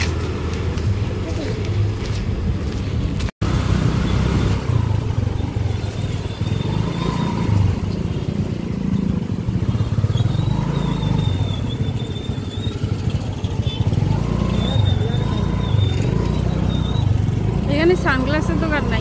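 Motorcycles and other traffic on a crowded Sunday street, a steady dense rumble of engines idling and passing throughout, with people talking nearby.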